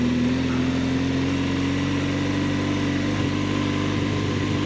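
BMW GS 1200 motorcycle in limp mode on a trail, its engine droning loud and close in a steady, unwavering hum with no revving, heard alone.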